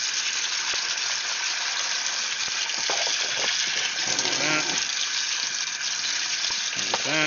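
Hot water runs steadily from a tap to rinse activated carbon media, a continuous loud gushing and splashing wash that fills the clip with only brief shifts in tone.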